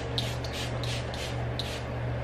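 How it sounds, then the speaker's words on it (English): A few soft, airy bursts from a facial mist spray bottle hiss in quick succession, close by, over a steady low hum. "So I'm gonna just spray the mist again"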